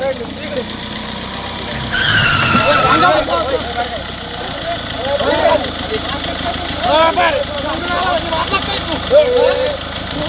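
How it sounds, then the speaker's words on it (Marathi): A car engine idles and rumbles close by on a village road, a steady mid-pitched motor drone with people talking over it throughout. "आम्ही यार गाडी आली गाडी आली. इकडे घे म्हणा, इकडे साईडला घे."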